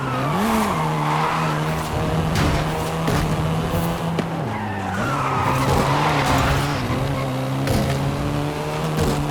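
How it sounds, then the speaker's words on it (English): A Volkswagen Golf R, seventh generation, drives hard and skids in Forza Horizon 5, its engine droning steadily with rising and falling pitch while tires squeal and scrub in repeated bursts, loud and close throughout. "This version is the Volkswagen Golf R,"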